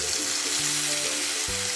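A paste of turmeric and coriander powder hits a hot pan with a loud, dense hiss that flares as it pours in, a low tonal hum running underneath, with no voices.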